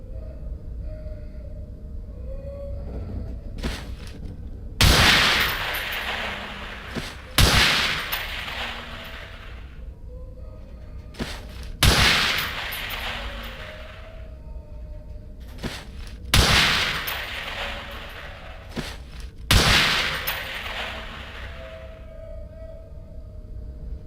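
MP5 submachine gun fire at pop-up targets on a training range in the game Underhell: five loud, separate bursts spaced a few seconds apart, each ringing out with a short echoing tail over a low ambient drone.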